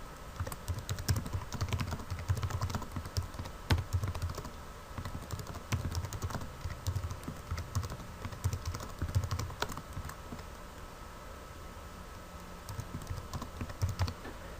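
Continuous typing on a computer keyboard, a steady run of close, fairly loud key clicks with short pauses, heard alone without any talk.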